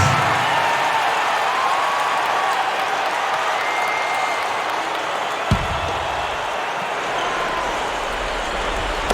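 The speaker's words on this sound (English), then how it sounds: "Give him a round of applause, fans." Arena crowd noise from an NBA 2K11 Thunder vs Heat game, a steady wash of applause and murmur with one sharp thud partway through, continuing evenly to the end.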